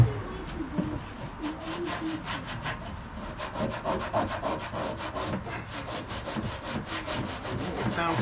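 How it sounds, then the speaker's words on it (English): A rag rubs back and forth with degreaser over the deck of a 1997 Craftsman II 30-inch rear-engine riding mower, giving a close, rhythmic scrubbing and swishing that runs without pause and without talking. "I'm going to wipe this down with a little bit of degreaser too"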